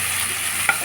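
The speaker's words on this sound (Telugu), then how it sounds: "ఫైనల్గా టమాటో ఒక 5 minutes అలా మగ్గిస్తాను" Tomatoes sauté in a pan for dondakaya (ivy gourd) pachadi, giving a soft, steady sizzle with one quick stirring scrape near the end.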